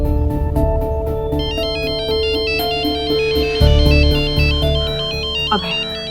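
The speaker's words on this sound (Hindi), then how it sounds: "आप फोन उठाइए, स्पीकर पर डालिए प्लीज।" A phone ringtone plays a loud, repeating melodic tune throughout, steady and close, over a background bed of dramatic music.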